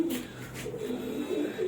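A female pigeon sitting on eggs in a breeding loft gives soft repeated throaty coos, close and steady, over a quiet background.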